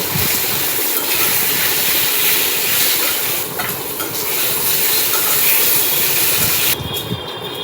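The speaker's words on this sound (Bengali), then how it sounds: "হলুদ দিয়ে আলুটাকে এবার আরও ভেজে নেব" Potatoes fry in oil with turmeric, a loud, constant hiss throughout, with faint scraping and shifting underneath and no voices.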